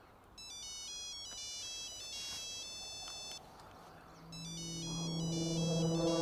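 Mobile phone ringtone in a Hindi movie chiming in repeated electronic melodic bursts, fairly loud and clear, with a pause in the middle and a rising tonal phrase near the end.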